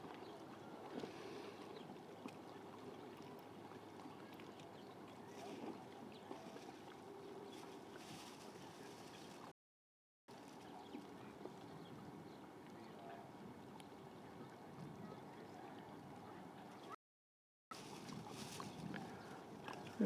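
A boat heads out through the harbor channel at Southport, Connecticut, its low engine rumble steady and fairly distant under wind noise, with two brief dropouts in the sound.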